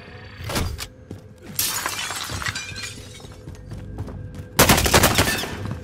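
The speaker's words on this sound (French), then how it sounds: "Il me tire dessus." Gunfire in Warzone Pacific season 2, with a PPSh 2.0 submachine gun class, comes in loud bursts of repeated shots with sharp breaking cracks. It peaks near the start and again in a heavy final burst, and there is no talk.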